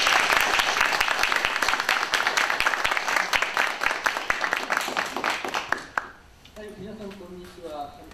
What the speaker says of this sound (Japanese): 拍手でお迎えください。